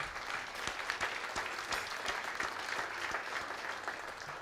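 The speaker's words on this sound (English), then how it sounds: "don't count the clapping time" Steady applause from an audience at a 2010 Natick athletic hall of fame induction ceremony, a continuous patter of many hands clapping at moderate volume with no voices over it.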